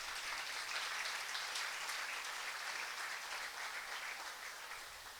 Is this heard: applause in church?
yes